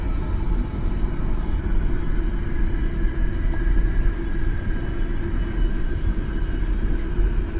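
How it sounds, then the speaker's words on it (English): A train rolls past along a line beside a floodplain, giving a steady, continuous low rumble with faint high rail squeal throughout, fairly close and unbroken for the whole stretch. "you hear the train going past?"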